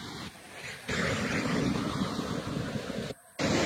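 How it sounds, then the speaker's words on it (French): The Saut du Doubs waterfall on the French-Swiss border roars as a steady broadband rush of falling water, continuous and fairly loud, broken by a couple of short dropouts, with no voices. "c'est le Doubs qui sépare la Suisse et la France par cette superbe cascade"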